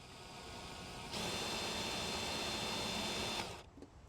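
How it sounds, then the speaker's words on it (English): A power drill bores holes to fix a squeak, spinning up for a sustained high whine of a couple of seconds at close range and then winding down, with no voices. "let's get some drilling going"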